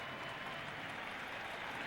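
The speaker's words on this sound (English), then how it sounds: "He's getting a standing ovation." Steady, distant roar of applause from a football stadium crowd giving a standing ovation during an NFL game between Washington and the St. Louis Cardinals, a continuous even wash of clapping with no voices close by.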